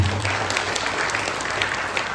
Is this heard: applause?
yes